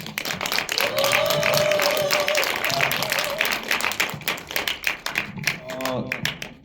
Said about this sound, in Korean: 먼저 큰 박수 한번 주시죠.